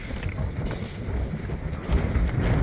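Strong wind gusting outdoors in Tulsa, a steady broadband roar buffeting the microphone with low rumbling bursts, growing louder near the end; no one speaks.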